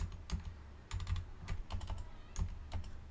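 Quick clusters of keystrokes on a computer keyboard while entering shortcuts in a code editor, soft and close, in short irregular bursts with no speech.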